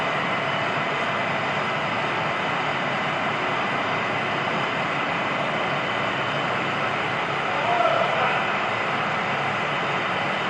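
Steady, loud broadband roar of an aircraft moving at a museum, continuous engine noise filling the whole stretch with a slight swell near the end.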